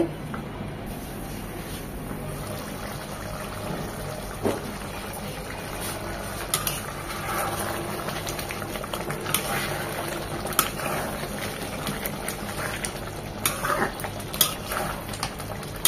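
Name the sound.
beef curry boiling in the pot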